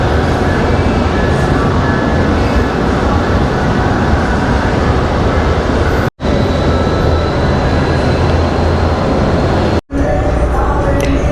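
Steady loud rumble and rushing noise of a Brightline passenger train in motion between Orlando and West Palm Beach, continuous throughout with two brief dropouts.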